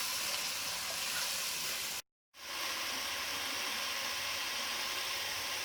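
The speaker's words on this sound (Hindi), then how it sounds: "प्याज अच्छे से फ्राई करूँगी प्याज को।" Onions frying in a pan while cooking mutton Jahangiri, giving a steady broadband sizzle and hiss that cuts out briefly partway through, then resumes at the same level with no talking.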